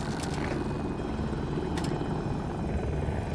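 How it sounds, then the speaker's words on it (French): A helicopter in the video game Battlefield 2042 gives a continuous loud rotor and engine roar, a dense steady thrum that fills the whole stretch, with a couple of faint sharp clicks and no talking. "On tourne en hélico."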